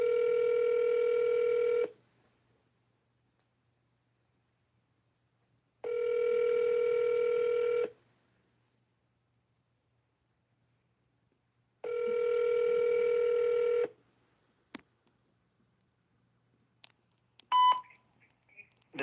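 A phone line's tone sounds in three steady bursts about two seconds long, each followed by a pause. A few short keypad beeps come at the end of the automated line.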